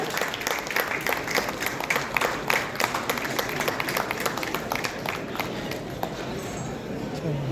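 Audience applause at a Kalinga Hospital foundation day ceremony, a dense, steady wash of many hands clapping that fills the hall evenly for several seconds, with a murmur of crowd voices mixed underneath.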